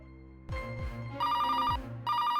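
A telephone rings at night, with repeated bursts of a bright electronic ring tone, fairly close, separated by short gaps over a low background.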